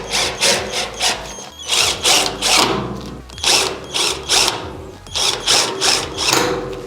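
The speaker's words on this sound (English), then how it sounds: "when you guys do the power drill, it speeds up everything much faster than using a regular screwdriver" A power drill drives screws into wood in a steady series of loud, close revving bursts, each rising and falling in a repeating rhythm with no talk.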